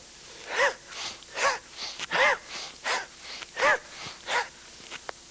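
Breathy exhales during a joint-strength exercise routine, about eight forceful puffs in a steady rhythm, close and clear with quiet pauses between them.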